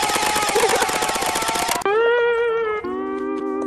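A toy gel blaster shoots water-gel bullets in a loud rapid burst of automatic fire, then breaks off into a steady electric motor whine that changes pitch partway through.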